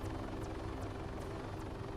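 Helicopter in the Arma 3 video game flying low, a steady loud rotor and turbine drone with rhythmic blade sweeps repeating throughout, no voices.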